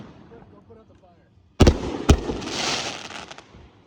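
Fourth of July backyard fireworks display: two sharp, booming bursts in quick succession followed by crackling sizzle, loud and close, with faint voices murmuring beforehand.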